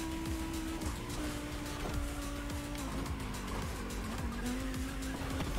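An Aezus hypercar in the video game The Crew Motorfest, its engine droning steadily and shifting pitch as it corners, with tire noise throughout and no talking.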